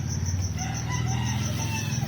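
A chicken at a home calls out in a sustained, loud, nearby crowing-like vocalization with a steady rhythmic pulsing, heard alone without talk.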